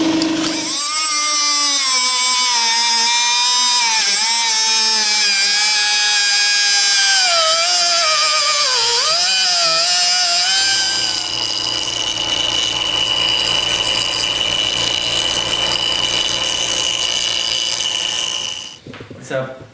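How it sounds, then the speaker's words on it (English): A hand grinder cuts thin metal on a Honda CB350 swing arm with a loud, close, high whine that dips in pitch under load, shifts to a harsher tone midway, then winds down at the end. "I'm now gonna switch to the hand grinder. This is better for thinner material."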